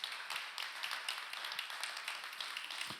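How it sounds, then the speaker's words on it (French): A congregation at a Sunday church celebration applauds, a steady, distant patter of many hands clapping at low volume throughout with no voices. "J'aimerais entendre un grand applaudissement au Dieu qui veut te donner dans ta vie."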